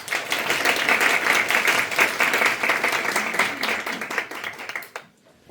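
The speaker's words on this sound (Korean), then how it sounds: "큰 박수로 맞이해 주시기 바랍니다." At an opening ceremony for a Korean student association's Model UN conference, an audience applauds steadily and densely to welcome a speaker to the stage, with the clapping fading out abruptly at the end.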